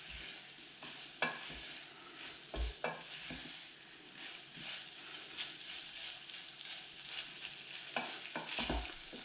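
A spoon stirs a morel mushroom cream sauce as a little flour is worked in, soft scraping strokes over a quiet, steady sizzle in the pan, close up with no talking.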